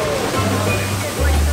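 Surf at a Grand Turk beach in the Caribbean, a steady broadband rush of breaking waves with low surges swelling in and out, close and fairly loud, filling the whole short moment without a voice over it.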